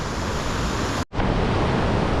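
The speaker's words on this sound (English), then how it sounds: "we made it to the first big waterfall" A big waterfall on an Appalachian wild trout stream roars in a steady, loud, broadband rush, briefly cut to near silence by a short gap before resuming at full strength.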